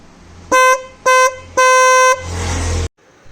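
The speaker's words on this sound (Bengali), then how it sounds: "বন্ধুরা আমি এই হর্নটার একবার আওয়াজ আপনাদের শোনাচ্ছি" An aftermarket horn fitted to a Pulsar N160 motorcycle honks three times, loud and close, in two short blasts and one longer one, followed by a brief engine rev.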